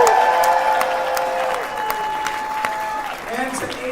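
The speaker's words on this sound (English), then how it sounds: "let's give a round of applause for the wonderful hotel here in the West End." Audience at a dance competition in a West End hotel applauding, a dense steady clapping close by, with a voice speaking over it.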